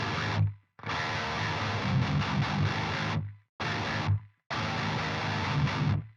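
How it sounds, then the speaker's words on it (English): Heavily distorted electric guitar riff in a syncopated pattern, a power chord alternating with the two low open strings, loud chunky blasts cut by short abrupt stops. "a syncopated pattern of that chord and then your 2 low strings played open simultaneously"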